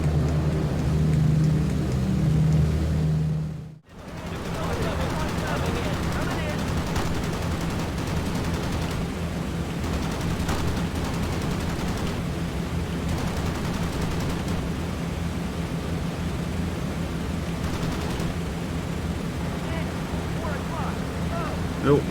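Machine gun fire from a B-17 bomber in a flight combat video game, sounding as a continuous dense rattle over steady engine drone, loud and close after a brief silent cut near the start.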